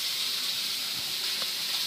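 A whole batch of fish, including murrel, frying at once in a big pan outdoors in a village garden, giving a steady broad sizzling hiss throughout with a faint knock or two underneath.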